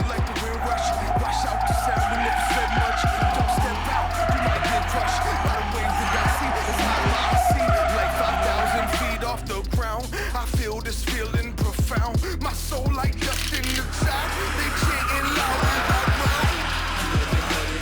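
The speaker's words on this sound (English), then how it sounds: "we have our own donut pit, and it's a legal place to do it" At an LS Fest event, a car spins donuts in a designated pit, tires squealing and skidding in long, loud waves under a rumbling engine, with crowd noise and occasional voices mixed in.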